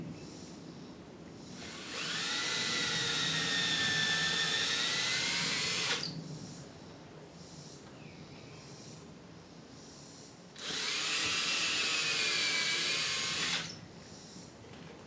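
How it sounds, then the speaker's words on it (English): Power drill boring pilot holes into a wall for a mini split air conditioner mounting bracket: two sustained high whining runs of about four and three seconds, loud and close, separated by a quieter pause. "I'm above that header, and I'm just going to make some pilot holes."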